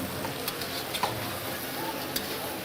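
Onion, ginger, spices and a little sugar sauté in a pan at a cooking demonstration, giving a steady soft sizzle with light clicks and taps of stirring. No one speaks.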